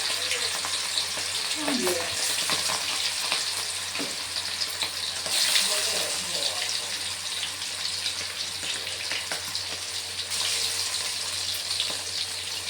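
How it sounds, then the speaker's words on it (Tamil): Seer fish fillets coated in two kinds of flour fry in hot oil, giving a steady bubbling sizzle throughout with faint clinks. "இப்போ மறுபடியும் மீதி இருக்கிற மீனையும் அதே எண்ணெயில் பொரிச்சு எடுத்துடலாம்."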